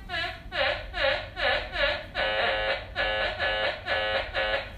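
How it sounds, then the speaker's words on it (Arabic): An Impact Pro metal detector sounds its iron signal, a buzzy electronic tone pulsing in a steady rhythm of about two beats per second, repeating for several seconds, clear and close with no talk. "هذا صوت الحديد راح يكون"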